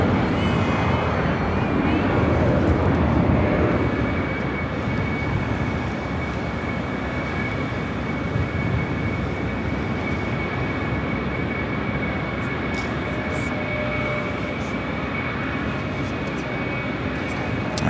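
Airliner at Los Angeles LAX airport, an arriving Airbus A380: a steady broad jet roar with a faint high whine runs throughout, loud and continuous, with radio chatter faintly under it.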